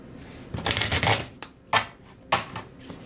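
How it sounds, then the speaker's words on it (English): Tarot cards being shuffled by hand, a burst of riffling flutter followed by several sharp slaps and taps as the deck is squared, close and fairly loud, with no talking. "I'm going to shuffle them."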